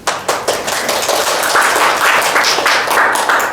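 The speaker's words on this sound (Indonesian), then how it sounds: "Dari tepuk tangannya." Steady, dense clapping from a classroom audience during a microteaching session, loud and close, holding throughout without pause.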